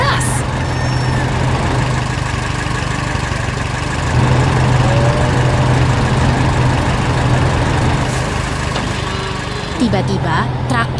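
A giant farm tractor's engine runs loud and steady on a farm, a continuous heavy drone with a low rumble that barely changes over the whole stretch.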